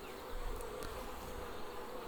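Honey bees at a Langstroth hive give a dense, continuous buzzing drone, steady and close throughout, with no voices.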